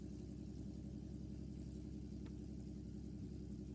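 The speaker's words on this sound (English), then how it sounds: "Okay, engine's running." Robinson R44 helicopter engine idling in the X-Plane 12 flight simulator, a steady low rumble and whir holding constant throughout with no voices.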